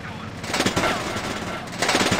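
Enemy aircraft machine gun fire in the IL-2 Sturmovik flight game, a loud, continuous rattling burst over engine roar, with a voice talking over it.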